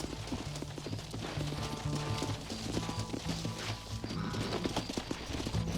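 Horse hooves clip-clop at a quick steady trot in a video game, rhythmic and close, with a faint rumble of background game sound underneath.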